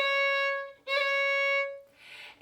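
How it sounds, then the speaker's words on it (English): Solo fiddle holds a clear bowed note, breaks briefly, then sounds a quick ornamented note before a soft breathy tail; close and alone, no talk. "The first ornament we're going to talk about is called a mordant."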